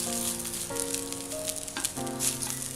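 Bread upma with tomato and coriander sizzles in a pan as it is stirred, giving a bright crackling hiss over a steady sustained tone and some soft scrapes.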